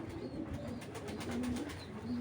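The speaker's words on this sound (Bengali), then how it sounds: "একটা বিগ সাইজের টেরা চোখের একটা চুইনা মাদি, বিগ সাইজ দেখেন" Large cross-eyed female Chuina Giribaz pigeon cooing close by, a soft low throaty burbling coo repeated in short rolling phrases over faint background noise.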